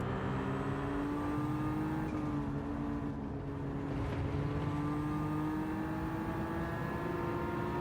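A steady, droning race car engine in the Gran Turismo 7 video game hums continuously with a slight rise in pitch, sounding like sustained high-speed driving with no pauses.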